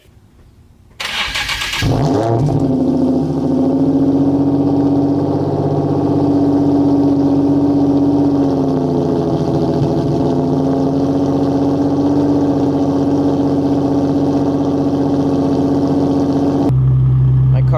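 A turbocharged BMW E36 M3 engine cold-starts with a brief starter crank, catches loudly, and settles into a steady, high idle that drones on unchanged for over fifteen seconds.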